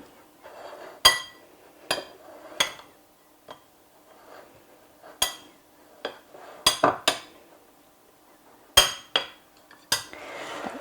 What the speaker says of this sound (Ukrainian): Перемішую і це буде начинка.